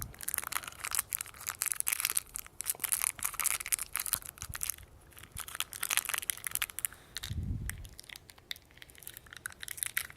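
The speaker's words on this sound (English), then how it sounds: "But I'm gonna be actually opening this piece of candy right now." Crinkly crackling of a candy wrapper being opened close up, a steady run of small crunches and tears with a soft low thump near the end.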